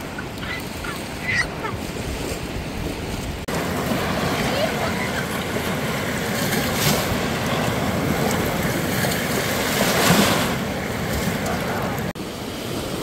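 Waves wash steadily onto a white sand beach of fine sand, a continuous near surf roar with wind, brief chirps early on, and a voice briefly audible.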